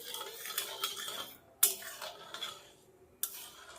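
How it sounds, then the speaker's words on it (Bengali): Sugar syrup for sweet singara being stirred in a pan with a spoon: quiet, close scraping and soft clinks, broken by two sharp metallic taps against the pan's rim. "শিরাটা তৈরি করতে একটু ধৈর্য ধরে নাড়িয়ে তৈরি করে নিতে হবে।"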